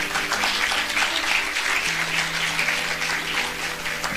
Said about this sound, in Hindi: देखो तालियां बज रही हैं